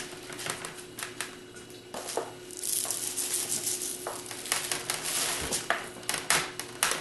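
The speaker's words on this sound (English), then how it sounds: "Now I'm just going to take my rice, which as you can see has been through lots of bakings, and we're going to really fill the tart shell" Well-used dry rice pours and rattles into a pastry tart shell to fill it for blind baking: a continuous patter of grains with several louder bursts, close by and with no talking.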